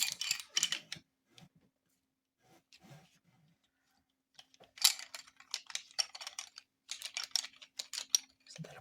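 A standard-size Try-Rex graphite pencil writes on paper in quick bursts of dry scratchy strokes, close and fairly quiet, with a pause in the middle before a denser run of scribbling.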